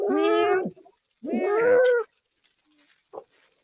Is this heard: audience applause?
no